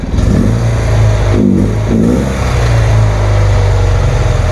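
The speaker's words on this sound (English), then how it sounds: "if I turn it a lot, I'll get a rev out of it" A 1977 BMW R100S motorcycle engine revs under throttle, loud and close, its deep idle lifting in two quick blips before settling back to a steady running drone.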